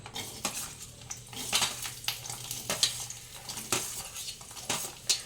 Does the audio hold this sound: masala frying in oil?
yes